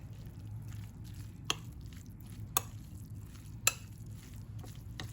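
Spoon stirring shredded chicken filling with green sauce in a bowl, a soft, continuous wet mixing sound broken by three sharp clinks of utensil against the dish, quiet and close.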